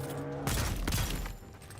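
A burst of gunfire from dual pistols fired akimbo in the fantasy game Avowed, a loud cluster of cracking shots over a steady game background hum, brief and close.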